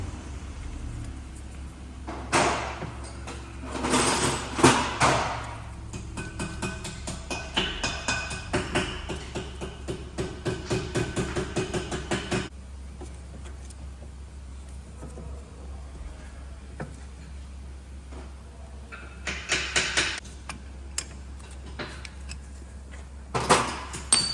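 Ratcheting clicks and scraping from a rewind tool pushing back the rear brake caliper piston on a Ford Focus RS Mk III, bursts of close mechanical clatter separated by a quieter gap, with low steady hum beneath.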